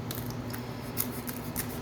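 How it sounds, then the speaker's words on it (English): Scissors snip open a card booster pack from a Lorcana starter deck, a series of quick, crisp cutting clicks close to the microphone over a quiet room. "Can you pass me the scissors, please, so we can open up our booster set?"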